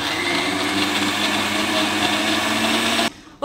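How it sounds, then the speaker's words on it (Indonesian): A kitchen blender grinds onions with a loud, steady whirring drone for about three seconds before the motor cuts off abruptly near the end. "kita dah sudah blender dah kisar kita punya bawang tadi"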